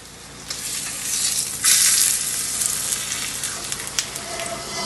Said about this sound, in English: it's been about 4 minutes now of searing the first side of the steak